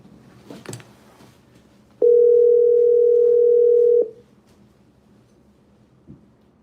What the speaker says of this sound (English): So let's try to call him.